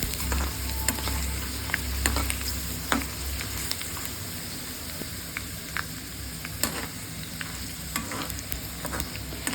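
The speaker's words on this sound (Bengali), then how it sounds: "একটু হালকা নেড়ে নেব যাতে সবগুলো সাইড সুন্দর মতো ভাজা হয়" Potato pellets fry in hot oil with a steady, soft sizzle while a utensil stirs them, adding scattered light scrapes and taps throughout, close up and with no talking.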